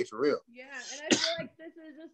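A sneeze from a man during a sit-down interview, a single sharp burst in the middle of ongoing conversation, with talking right before and after it.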